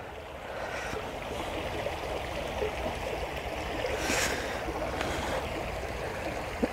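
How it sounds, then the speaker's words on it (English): A small brook flows beside a boggy walking track in the English countryside, a steady close gurgle and wash of water running throughout with no voices. "It's a lovely little brook."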